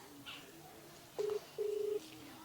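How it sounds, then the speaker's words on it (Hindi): A telephone number is dialed in a village home, producing two keypad tones: a short beep, then a longer one after a brief gap, fairly quiet over a soft background hum. "हे अम्मा, छोटकू जाने के फोन लगावत है"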